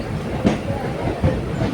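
A train pulling out of a station bound for Kolkata Sealdah, heard as a low rumble with rhythmic clicking thumps of wheels over rail joints, a voice murmuring faintly beneath.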